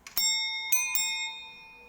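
A front door bell rings with three bright metallic strikes, the first alone and the next two close together, each leaving a long sustained ringing tone that fades slowly.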